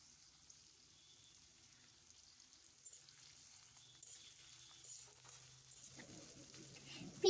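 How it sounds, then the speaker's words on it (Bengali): A low, steady sizzle of bay leaf and chopped onions frying in oil in a kadai, growing busier and louder toward the end with faint stirring. "পেঁয়াজগুলো লাল লাল করে ভেজে নেব"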